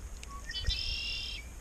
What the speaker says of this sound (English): It's called a red-winged blackbird, and they love making their call.